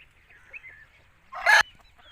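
Aseel cross rooster making a single short, sharp cluck after a few faint chirps and a quiet background.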